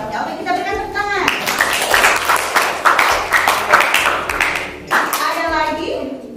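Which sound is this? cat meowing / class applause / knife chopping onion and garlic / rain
class applause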